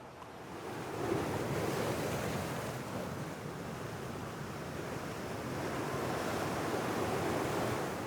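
Ocean waves pound the rocks along Havana's Malecon seafront, a continuous loud wash of surf with wind noise buffeting the microphone and no voices.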